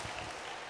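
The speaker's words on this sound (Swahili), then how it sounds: "Pigia Yesu makofi." A church congregation at a ladies' conference applauding for Jesus, a brief, faint wash of steady clapping heard from a distance.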